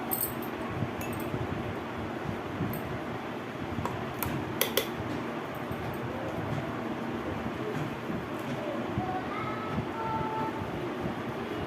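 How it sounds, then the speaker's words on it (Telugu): A mixer grinder whirs steadily as it blends sapota juice, a continuous dense motor hum running unbroken from start to finish with a few faint clinks on top. "మళ్ళీ మిక్స్ పెట్టాలి"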